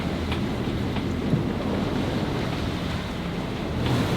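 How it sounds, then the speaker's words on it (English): Strong wind and rough sea on a solo sailing boat make a steady, loud broadband roar with surf wash, constant throughout and with no voices. "It's windy as hell. Seas are somewhat not nice."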